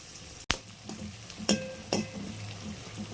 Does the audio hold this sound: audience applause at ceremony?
no